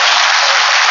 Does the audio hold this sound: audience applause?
yes